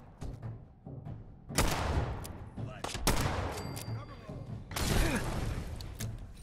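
Gunfire in Fallout 4 on survival difficulty, repeated loud shots and bursts in quick succession, several heavy blasts echoing over game noise and background sound.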